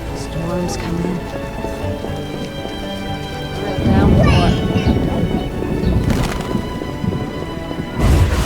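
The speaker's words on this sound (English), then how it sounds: "Storm's coming." Steady rain pours in The Witcher, with low rumbles of thunder rolling through a gathering storm, while voices talk over the downpour.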